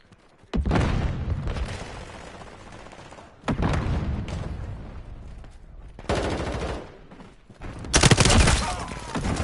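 Frag grenade blasts in Call of Duty Modern Warfare, several loud booming explosions arriving one after another with sharp onsets and rumbling decays, separated by quieter gaps of gameplay noise.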